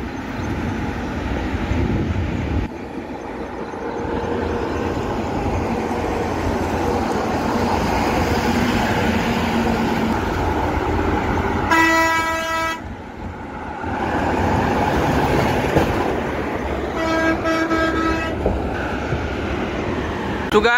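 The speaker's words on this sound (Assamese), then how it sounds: "সেইখন ৰেল গৈ আছে" A loud, continuous rumble of a train rolling past in Jammu and Kashmir, with two sharp horn blasts partway through.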